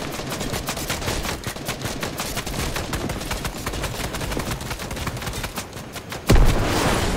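Sustained rapid gunfire from a video game, dense automatic bursts rattling nonstop at steady loudness, ending with a sudden louder blast and a noisy burst near the end.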